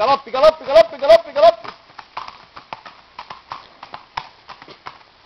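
Rhythmic hoofbeats pound close and loud in a quick repeating pattern, with a shout over the first strides before the steps become lighter and less regular.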